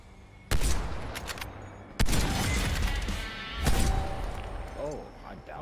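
Video game gunfire comes in three loud, abrupt bursts about a second and a half apart, each trailing off into rumbling noise, with talk running underneath.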